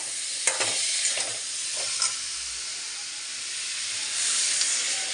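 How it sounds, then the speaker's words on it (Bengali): Onion and garlic paste sizzles and hisses steadily in a hot pan, a dense continuous fry with a few brief stirring scrapes near the start and a swell of steam toward the end, with no voices. "পেঁয়াজ রসুন বাটা দেবো"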